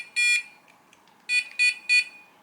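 A Dogtra 2702 dog training collar with a dead battery emits shrill electronic beeps: one short tone, a pause, then three more in quick succession, clear and close against near silence.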